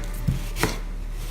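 Knife chopping a white onion on a cutting board: two crisp, close chops about a third of a second apart, the second sharper, then quiet.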